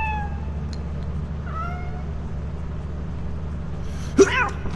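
A cat in the video game Lethal Company gives a single short, sharp meow near the end, standing out against a low background hum and faint game sounds.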